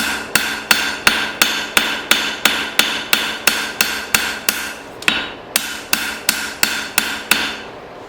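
A hammer strikes a blade being forged from an old file in a steady, even rhythm, about two ringing blows per second, loud and close, with a brief pause partway through and no talking.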